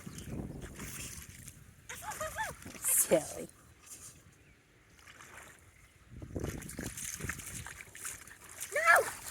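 A dog splashes and sloshes in a puddle with a child nearby, intermittent soft watery bursts under frequent casual talk from people close by.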